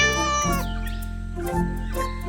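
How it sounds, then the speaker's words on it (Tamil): A cartoon cat meows twice in a Tamil children's cartoon, two clear drawn-out calls about a second apart over a steady background music bed. "அதுக்கப்புறம் அவரு ஒரு பூனையை கொண்டு வந்தாரு"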